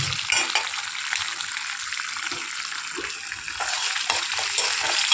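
Spices such as pepper and dried red chilli sauté in hot oil for a beetroot buttermilk curry, a steady close hiss with faint stirring and brief soft voice moments.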